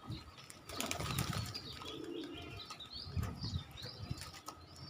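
Pigeons flap their wings in quick, fluttering bursts nearby, with soft cooing and shuffling in the background.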